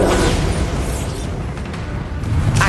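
The Bombarda spell in Hogwarts Legacy bursts as a loud, rumbling explosion with heavy low-end boom and debris-like crackle, sustained throughout with a brighter burst near the end.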